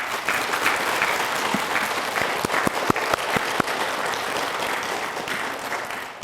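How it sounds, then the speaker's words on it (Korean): Steady audience applause fills a Buddhist dharma talk given by a monk. A dense wash of clapping runs throughout, with a few sharp, louder individual claps standing out near the middle. "박수 쳐주세요."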